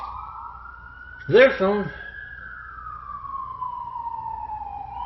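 Emergency vehicle siren wailing steadily in the background, a moderately distant rising and falling tone that continues throughout, briefly crossed by a short spoken phrase.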